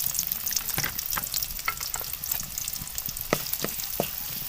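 Chopped onion fries in hot ghee for aloo wadiyan, giving a dense, continuous sizzle up close, broken by sharp scraping taps of stirring.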